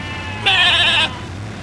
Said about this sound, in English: the sheep he has penned up behind the barn